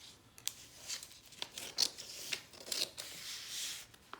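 Paper for a law book binding is cut with scissors, giving a series of crisp snipping and rustling strokes at close range.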